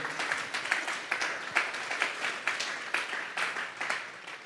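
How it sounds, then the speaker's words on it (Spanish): A church congregation gives a lively round of applause during a Spanish-language sermon, many hands clapping in a dense, rhythmic wave that holds steady throughout. "Vamos a darle una ofrenda de palmas a Dios en esta hora"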